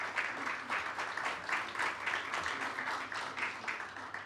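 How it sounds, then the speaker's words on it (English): Audience applause for forum panelists at the Rwanda Nordic-Baltic Forum, a steady wash of clapping from a crowd at moderate level with a faint low hum beneath, continuing throughout. "Another round of applause to our panelists"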